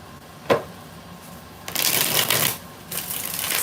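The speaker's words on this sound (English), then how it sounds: "6 shuffles for Plan C." Playing cards being shuffled up close: a single sharp snap, then two bursts of rapid riffling flutter, each lasting under a second, with no talking.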